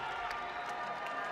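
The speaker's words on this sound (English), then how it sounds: "Crowd getting loud." A basketball crowd at a boys' game between Amherst and Minnechaug cheers and applauds as bench players check in, a steady loud roar of clapping and voices with no break.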